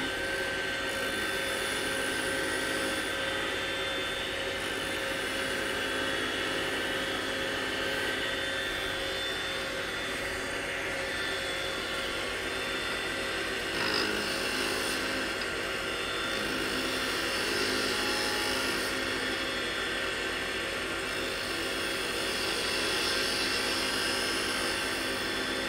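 A wood lathe spins as a skew chisel rounds over the edge of a wooden napkin ring, a steady whining motor drone with thin scraping tones riding on top, constant and close for the whole stretch, no talking.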